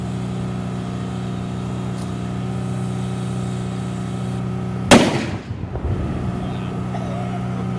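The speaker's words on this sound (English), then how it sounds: "The main weapon is a 75 millimeter high velocity gun." A WWII tank's 75 millimeter high velocity gun fires once, a single loud sharp blast with a short rumbling decay, heard from inside the tank over a constant engine drone during a Memorial Day reenactment.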